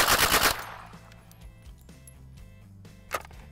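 AK-pattern Tommy Gun fed from a PPSh-41 drum firing a short full-auto burst, a rapid loud ripple of shots in the first half-second, followed by quieter handling noise and a single later crack.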